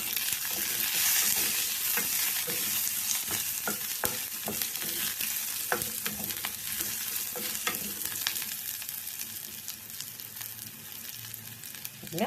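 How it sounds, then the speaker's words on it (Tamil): Crushed garlic sizzles in a hot pan for a white pumpkin kootu and is stirred repeatedly, a loud, steady frying hiss broken by scraping strokes. "பூண்டு 2 நல்லா பொடியாக நசுக்கி போட்டுக்கலாம்."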